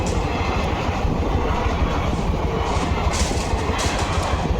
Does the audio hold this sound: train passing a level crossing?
yes